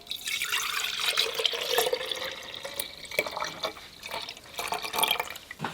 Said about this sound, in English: So I'm going to strain this out now. I am going to put this into a bowl